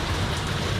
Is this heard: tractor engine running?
no